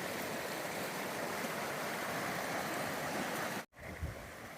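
Continuous rushing water, a dense steady roar of a fast-flowing stream close by, briefly cutting out near the end before resuming.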